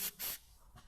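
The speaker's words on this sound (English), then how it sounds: "So we're just going to spray up all of these little fixings" Aerosol lubricant sprays onto the fixings of a car's metal heat shield in two short hissing bursts, followed by a fainter third puff, close by with no talk.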